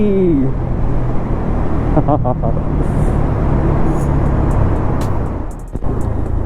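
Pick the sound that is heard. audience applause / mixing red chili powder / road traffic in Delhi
road traffic in Delhi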